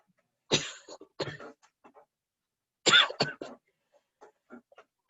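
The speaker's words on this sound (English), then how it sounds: "coughing in the background" A person coughs in two harsh bursts of several rapid coughs each, close and loud, with soft throat noises and breaths between them in an otherwise quiet room.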